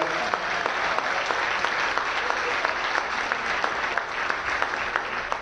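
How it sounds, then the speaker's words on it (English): A room of people claps steadily for Andy Driscoll at a comedy charity show, dense and sustained applause, fairly loud and close throughout. "So please, a nice round of applause for Andy Driscoll."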